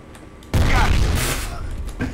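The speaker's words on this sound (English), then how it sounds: "I threw a grenade." A grenade blast in an office-map combat video game bursts out suddenly and loud, a broad booming roar that decays over a couple of seconds with rumbling debris after it.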